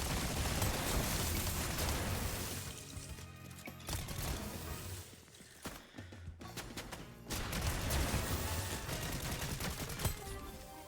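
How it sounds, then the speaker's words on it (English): Submachine gun fire in Fortnite, long rattling bursts broken by a short lull and a few sharp cracks, then resuming loud and continuous to the end. "I don't really like this SMG"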